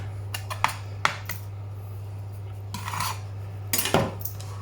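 Pheasant legs are chopped roughly with a knife on a board: a few sharp knocks and scraping strokes close by over a steady low hum, with no talking.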